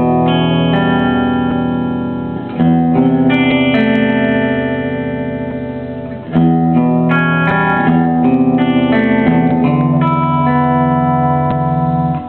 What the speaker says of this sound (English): And the plate reverb